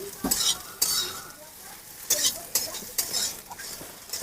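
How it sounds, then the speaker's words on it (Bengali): Puffed soybean chunks frying in hot oil while a spoon stirs and scrapes them around the pan, with sharp clattering strokes repeating over a continuous sizzle, close and fairly loud. "এই সয়াবিনগুলো এইভাবে ভেজে আমি তুলে নেবো।"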